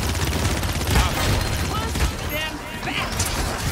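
Gunfire in a Paladins match, with continuous rapid shooting and scattered impacts forming a steady, dense barrage of cracks and bursts across several seconds, mixed with in-game effects.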